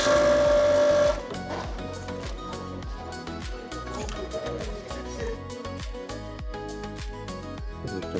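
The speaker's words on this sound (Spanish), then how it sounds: "les voy a presentar cómo sería la costura con las 3 enhebradas." A Union C5 coverstitch machine stitches with all three needles threaded, running steadily with a rhythmic mechanical chatter after a brief tonal hum at the start.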